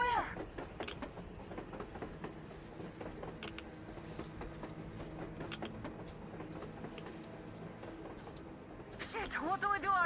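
Train rumbling past in the post-apocalyptic game Metro Exodus, a steady mechanical clatter with rail noise running throughout and a louder swell near the end.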